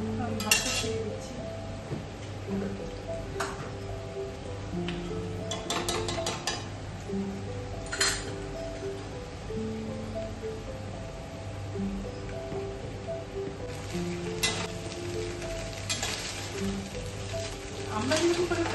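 Cooked rice hits a hot pan for fried rice, with a steady close sizzle under the clink and scrape of a stirring utensil and someone talking throughout.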